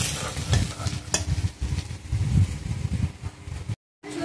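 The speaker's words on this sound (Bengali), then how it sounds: "আলুটা একটু হলুদ দিয়ে শুধু লবণ দিয়ে ভেজে নিয়েছি" Potato pieces seasoned with turmeric and salt frying in a pan, close sizzling with repeated stirring clatter and scrapes, then a short cut of silence near the end; no voices.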